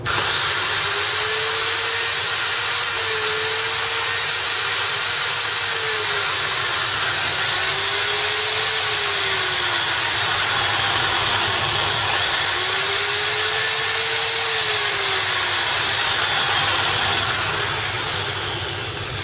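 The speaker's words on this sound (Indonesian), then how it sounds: "Jadi ini yang disebut mesin bor standar." An electric hand drill runs steadily at one speed, a loud continuous motor whine with a slight wavering pitch and no talking.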